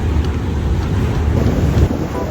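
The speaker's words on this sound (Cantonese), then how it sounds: "而家開船啦，離開大水坑嘅碼頭啦。" A small kaito ferry pulls away from the Tai Shui Hang pier in Sha Tin, its engine rumbling low and steady beneath loud, continuous wind buffeting the microphone.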